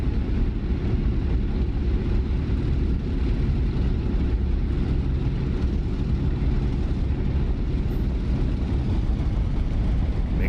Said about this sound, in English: Makes life a little bit easier when you're taxiing down a straightaway like that.